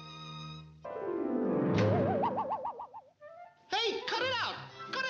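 A cartoon pigeon from a 1942 Looney Tunes short coos in a warbling, wavering call of several seconds, followed by bouncy animated vocal sounds, all in a close, dry studio recording.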